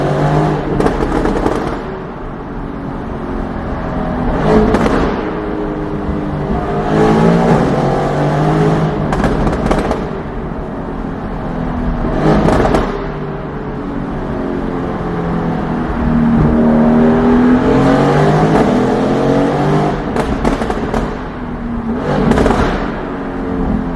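A Mercedes AMG GTR fitted with a Fi exhaust system revving repeatedly, loud and close, the engine note climbing and falling in a series of throttle blips with deep rumbling between them.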